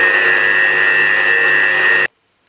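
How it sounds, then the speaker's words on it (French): An electric mixer whips cream with coffee extract for a coffee religieuse filling, a loud steady high-pitched whir running for about two seconds before cutting off abruptly into silence. "Et c'est parti pour un mélange vigoureux."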